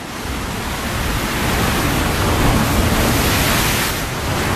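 Ocean waves crash and roll onto a surf break, a dense, continuous wash that swells and eases slightly, loud and close, with no voices.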